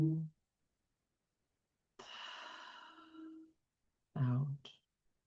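A guided meditation breath: a long, soft exhale drawn out over a couple of seconds, followed shortly by a quicker breath in, close and quiet against silence.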